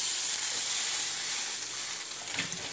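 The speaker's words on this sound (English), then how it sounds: "Let's go ahead and put another pancake on." A pancake sizzles steadily in a buttered frying pan, a continuous close, bright hiss with a slight swell near the end and no talking.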